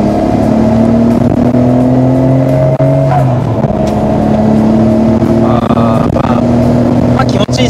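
Nissan Skyline R33 GT-R with a complete engine accelerating on the road, a loud, steady engine drone whose pitch climbs and shifts through gears, heard from inside the car under faint cabin talk.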